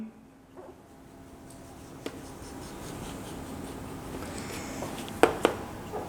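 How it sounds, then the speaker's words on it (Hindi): Marker or chalk scratches and taps across a board as a maths lesson on straight-line slopes is written out, a steady faint rasp with a few sharper knocks near the end, no talking. "तो यहां पे मैं लिख रहा हूं जी"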